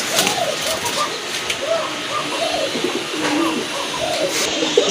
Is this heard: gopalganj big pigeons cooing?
yes